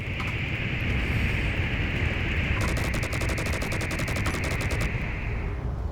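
A giant gatling gun on a destroyer fires in a space combat video game, a rapid stream of shots over a loud, dense roar of engines and explosions. The sustained burst lasts about two seconds and then stops.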